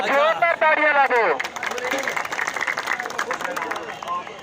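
A crowd at a wrestling match at the Moungri Mela village fair claps after a voice, then the clapping continues as a dense patter mixed with crowd chatter.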